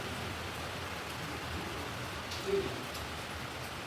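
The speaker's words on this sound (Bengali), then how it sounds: "বৃষ্টি হচ্ছে কি সুন্দর রোদ বৃষ্টি" Steady rain patters on a surface in a home setting on a sunny day, a continuous even hiss of drops with one brief louder bump, no voices.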